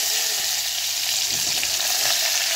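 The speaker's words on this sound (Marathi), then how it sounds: "आता मी हिरवी मिरची, कढीपत्ता टाकलं." Green chillies and curry leaves sizzle in hot oil as a tempering for plain dal, a steady bright crackling fry that holds level for the whole stretch with no talking.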